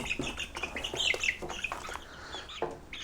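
Baby chicks being banded for identification peep and cheep in quick, high, overlapping calls close by, with no talking.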